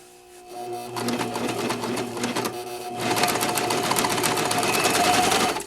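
A Singer Professional 5 serger sewing a coverstitch runs in a fast, steady mechanical whir and clatter, close and loud, pausing briefly and then speeding up, with no talking.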